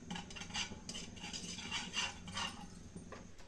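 Foster Clark's cream caramel pudding mix being stirred in a pan on the stove, a spoon scraping and clinking against the metal in a steady, close rhythm over faint background noise, with no talk.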